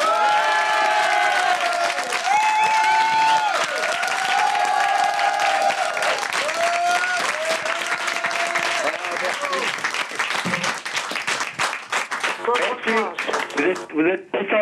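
A television studio audience breaks into loud, sustained applause with cheers and shouts, the clapping dense and close, growing more scattered near the end while voices ring out over it.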